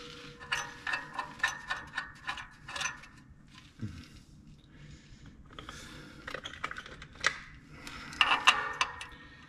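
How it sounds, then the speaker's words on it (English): Socket ratchet turning to start the clutch pressure plate bolts on an MM G950, a series of close, quick ratcheting clicks in bursts with short pauses and metallic clinks between. "I got a socket up here I'm gonna use to align that. I was just gonna get all the bolts started first."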